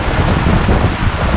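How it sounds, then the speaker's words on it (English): Heavy rain pours in a dense, steady roar during a squall at sea aboard a sailboat, loud and close, mixed with wind buffeting the microphone. "This is probably some of the heaviest rain we've had."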